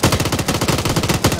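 Rapid automatic gunfire in the Arma 3 video game rattles out loud and close, a continuous burst of evenly spaced shots lasting the whole short moment.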